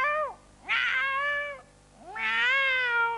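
A man imitates an aroused tomcat with two long, wavering meows. Each one swells into a strained, nasal wail and then trails off. They are close and clear, with a short gap between them.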